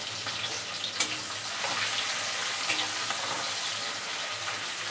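Onions frying in a pan make a soft, steady sizzle with a faint sharp clink near the start, fairly quiet and constant, with no one speaking.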